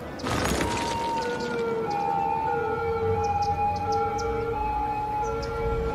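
Ambulance siren in the city-building game Cities: Skylines, a steady wailing tone holding over a low ambient city hum, with faint game clicks and no voices.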